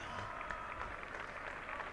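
A cricket crowd at Edgbaston during an England v Australia Test match applauds from a distance, a soft, steady ripple of clapping under faint broadcast background.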